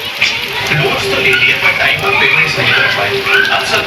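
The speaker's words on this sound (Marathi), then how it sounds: "हे बघा पूर्ण पाऊस चालू आमच्या इथे हे" Heavy rain pours down outdoors, a dense loud steady hiss of drops on surfaces that fills the whole stretch, with voices faintly underneath.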